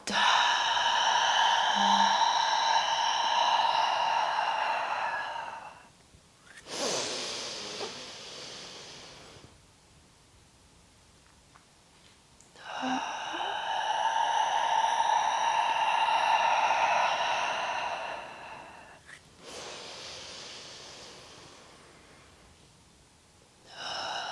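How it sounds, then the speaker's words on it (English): Deep breathing during a seated yoga cool-down, two long breathy inhale-exhale sounds set between stretches of soft, sustained ambient tones, close and fairly quiet. "taking a deep breath in, exhaling out"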